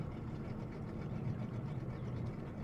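A boat engine idles in a dark scene from a horror video game, a low, steady rumbling throb that stays quiet and continuous with no voices over it.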